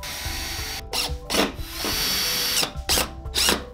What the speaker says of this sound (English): I decided to drill some pilot holes and then just use screws to hold it down